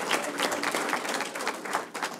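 A crowd at a patriot bash gala in Lawrence, Massachusetts gives Joe a round of applause, dense clapping heard from a distance, fairly faint, with a few louder bursts.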